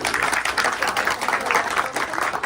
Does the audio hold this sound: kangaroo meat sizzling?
no